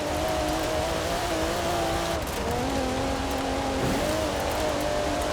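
A 2016 Alfa Romeo Giulia Quadrifoglio in Forza Horizon 4 drones at high revs with its engine note wavering through gear changes, tires squealing under persistent wheelspin, loud and close throughout.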